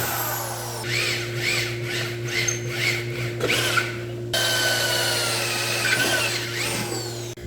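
A power drill runs in steady bursts with whining, grinding tones as it bores out old rivet holes in seat brackets from a derelict 1976 Ford Bronco, with a constant electrical hum underneath throughout.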